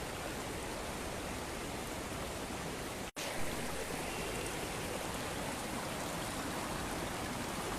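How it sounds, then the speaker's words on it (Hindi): Floodwater running across a road like a river during a disaster in Himachal Pradesh, heard as a steady, loud broadband rush that continues throughout, broken only by a brief dropout partway through. "ये आप देख रहे हैं कि सड़क पर कितना जो है पानी नदी की तरह बह रहा है।"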